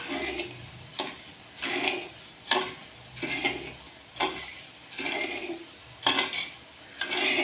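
A spoon scrapes and clinks around a kadai as sugar and water are stirred over high gas, about eight rhythmic strokes roughly one second apart, each a metallic swish with a bright click, close and clear.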